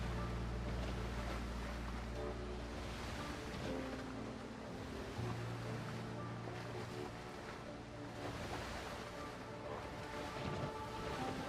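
A small boat crosses the open ocean in a video game, moving at low speed, with continuous rushing water, wave wash and wind and a low engine-like drone, steady throughout with no talk.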